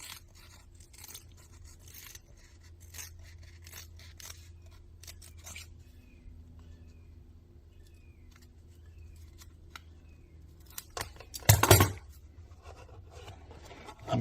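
Scissors cut material for a brake light leak repair on a Ford Econoline van, giving a series of small close snips and scrapes with a louder burst of cutting near the end.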